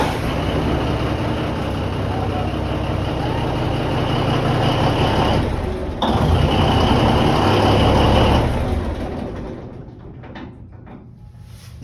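The low, steady engine of the fishing vessel Time Bandit idles loudly for several seconds, with a brief shift partway, then the rumble drops off and quiets near the end.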